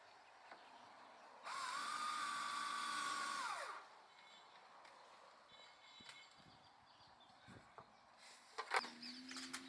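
A cordless drill whirs steadily for about two seconds and then spins down as its battery runs out, followed by quiet handling clicks and a brief second whir.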